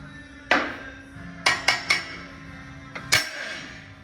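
Metallic hammer strikes ring out knocking out a pin during frame repair on a 2023 Ram 4500 truck, one, then a quick triple, then a lighter tap and a final hard blow, close by over a faint hum.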